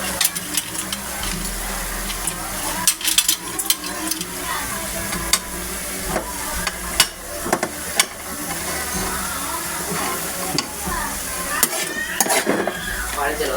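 Ground meat filling for Filipino lumpiang Shanghai is stirred and mixed with pepper, making steady scraping and sizzle-like hiss broken by sharp clinks of a utensil against the bowl.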